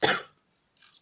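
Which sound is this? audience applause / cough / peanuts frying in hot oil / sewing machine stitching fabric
cough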